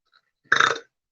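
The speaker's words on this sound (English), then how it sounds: "because I got the burps" A single deep, throaty burp from one person lasting about a third of a second, close and fairly loud, with a rough rumbling texture and no talking around it.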